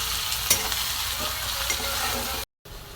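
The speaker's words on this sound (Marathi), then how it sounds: "चला आता मेथीची भाजी टाकली" Fenugreek leaves hit a hot pan and fry with a steady, loud sizzle, joined by stirring scrapes and a sharp clack near the start, then a brief silent gap before the sizzle resumes.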